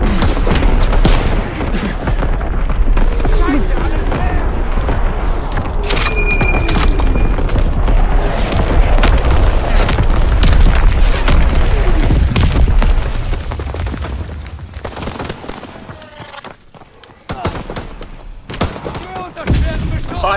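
Naval artillery battery in Call of Duty WWII firing a long barrage of heavy booms and gunfire, dense and loud, easing near the end with a few later blasts; a voice speaks over it.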